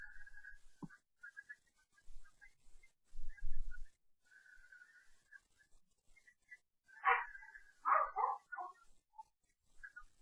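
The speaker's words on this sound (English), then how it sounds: "I'm really sorry about my dog, guys. That was not meant to be in the video" A dog barks in a few short bursts, somewhat distant and muffled, separated by quiet stretches with faint whining tones.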